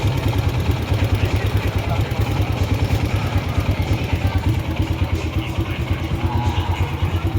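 A Kawasaki KLX 140 dirt bike engine idles close by with a rapid, steady putter and mechanical clatter, running evenly throughout.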